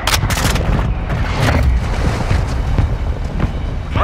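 Mortar strike explosions in Modern Warfare 2 team deathmatch on the Zarqwa Hydroelectric map, a string of loud booms and cracking blasts scattered across four seconds, near and heavy, with no talk.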